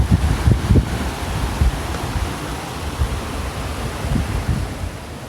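Creek water rushes steadily along a rocky trail, a broad continuous wash of noise with some low wind buffeting on the microphone near the start, no talking.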